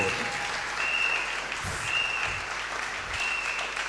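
A church congregation at a prophetic harvest gathering applauds, sustained dense clapping with crowd noise and a faint tone rising and falling in the background.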